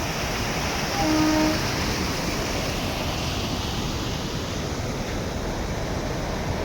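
A train rumbles past close by, a loud continuous roar of wheels and carriages with a brief horn-like tone early on.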